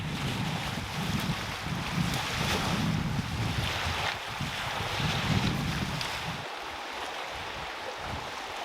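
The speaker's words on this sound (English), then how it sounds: "The wind was picking up and making the water choppy" Gusty wind buffets the microphone over rough, choppy lake water at Waterton Lakes National Park, with waves splashing steadily and the roar easing slightly toward the end.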